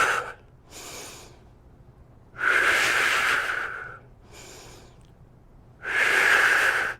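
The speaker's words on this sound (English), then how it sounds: "exhale, inhale, exhale" Breaths drawn in and pushed out during an ab and core workout in a gym: short softer inhales alternate with two long, loud, forceful exhales, close and alone.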